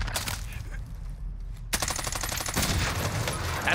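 Rapid automatic gunfire crackles in an online shooter match, bursts of dense rattling shots starting immediately and resuming after a short lull, loud and continuous near the end.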